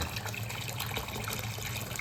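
Water bubbling and gurgling in a clogged overflow drain of a bathroom lavatory sink, a steady, fairly quiet rush with a constant low hum beneath.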